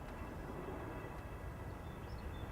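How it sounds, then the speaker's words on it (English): A twin-rotor Army Chinook helicopter passes at a distance near a river, heard as a faint, steady low rumble with no clear speech over it. "Oh, it's a Chinook. It's an Army helicopter. The big one with the 2 blades on it."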